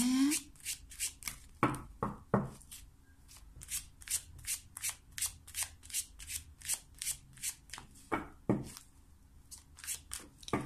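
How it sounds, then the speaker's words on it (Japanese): Playing cards being shuffled and dealt out, heard as a close, regular series of soft snapping flicks and rustles, evenly paced, with no one speaking. "今からねちょっとカードをかなり出していくので少し待ってくださいね"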